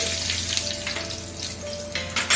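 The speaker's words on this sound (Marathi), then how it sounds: "त्यामध्ये जिरं आणि मोहरी टाकावी" Cumin and mustard seeds hit hot oil in a pot and crackle in a close, lively sizzle with bursts of spattering that swell toward the end, with no voices.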